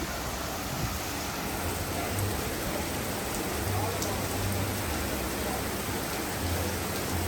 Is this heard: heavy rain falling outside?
yes